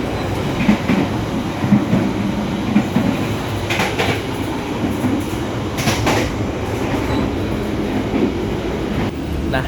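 Steady rumble and rattle of a moving Serayu passenger train heard from inside its dining car, with continuous wheel-on-rail clatter and a few brief louder knocks, no talking.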